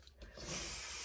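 Adhesive basting spray hisses from a can onto a quilt sandwich for a poinsettia table runner, a single close, steady burst that swells after a brief soft start and holds to the end.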